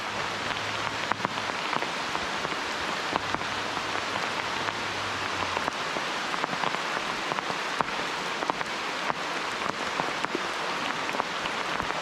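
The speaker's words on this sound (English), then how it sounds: "It is starting to rain now." Rain falls steadily beside a trout stream in a national forest, a dense close patter of drops hitting surfaces throughout, with no talking.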